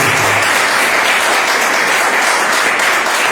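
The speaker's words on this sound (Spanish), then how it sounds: "Un aplauso para Él." A congregation applauds during a sermon, a dense, loud wash of many hands clapping steadily for the full stretch with no voices on top.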